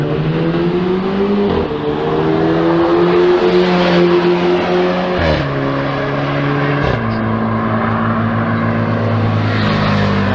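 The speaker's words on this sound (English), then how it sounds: "Got the truck coming out as well, look." Steady engine drone with shifting gear-like tones from a truck pulling out of a facility, fairly loud and continuous throughout with no talk over it.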